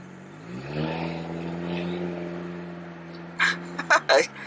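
A straight-piped 2019 Toyota RAV4 drives with a moderate, steady exhaust hum, then a few sharp knocks or clicks come near the end.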